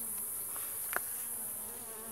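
Honey bees at a weak hive being fed diluted syrup buzz continuously in a thin, steady drone, close by, with a brief louder wingbeat passing near the middle.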